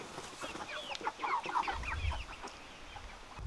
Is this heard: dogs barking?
no